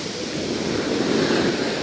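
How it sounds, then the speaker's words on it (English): Ocean waves break on a beach at a camping spot, a loud continuous wash of surf that builds slightly through the middle, with wind noise blended in. "Look at those waves."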